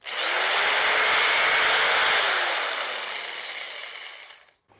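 A Craftsman jigsaw motor whirs loudly at a steady high pitch for a few seconds, then its speed drops as it winds down and stops. It is close and there is no talk.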